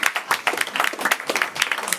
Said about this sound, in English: Clap for Alex, everyone.